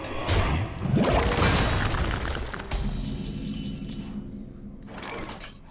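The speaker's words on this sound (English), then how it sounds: "Wow, explosive shot." Explosive Shot detonates in the Hearthstone card game, a loud booming blast with shattering debris, followed by a second, smaller burst and a fading crackle.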